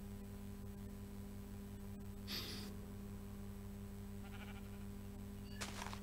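A single short sheep bleat in the Minecraft video game, heard once over a steady electronic hum, followed later by a brief sharp click.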